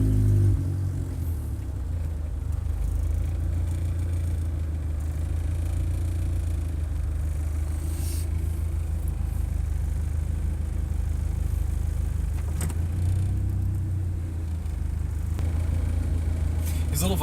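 A freshly rebuilt station wagon engine runs steadily with a deep, continuous low rumble as it is revved and driven, holding a fairly even level throughout with no voices heard.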